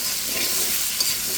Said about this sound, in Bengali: কেটে রাখা আলুগুলো দিয়ে দিয়েছি। এখন একটু ভেজে নিচ্ছি।